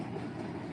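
The train at Frontierland in the Magic Kingdom running during refurbishment testing, heard as a soft, continuous rolling rumble at a moderate distance.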